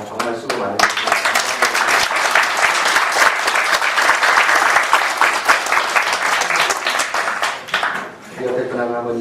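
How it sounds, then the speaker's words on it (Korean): A church congregation gives loud, dense applause after a service prayer, sustained and close for several seconds. A voice speaks briefly at the start and again at the end. "박수 좀 한번 크게 치겠습니다."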